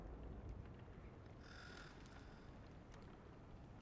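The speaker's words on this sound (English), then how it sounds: "The crows are very, very cool." Crows caw in the dark video game Little Nightmares 3, a short burst of calls rising over a steady low ambient rumble, moderately distant and faint.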